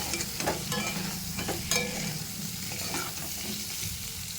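Drumstick pieces and potatoes sizzle over low heat in a pan while being stirred, with scraping knocks of the spoon breaking up a steady close frying hiss.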